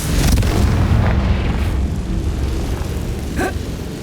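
A Confringo fire spell explodes in the Hogwarts Legacy video game: a loud, booming blast with a rumbling tail that fades over a few seconds, and a brief higher crackle near the end.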